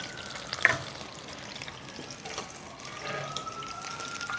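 Chicken wings dropped into hot oil in a home kitchen, a faint, steady frying hiss with a brief louder splash near the start, close but quiet, no speech.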